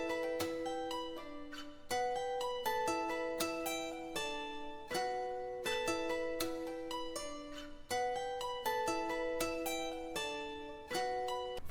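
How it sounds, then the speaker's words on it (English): A sampled acoustic guitar from the Ample Guitar plugin plays a bouncing plucked melody alone, each note ringing and decaying in a steady repeating dark loop. "The next sound we've got is this acoustic guitar from Ample Guitar"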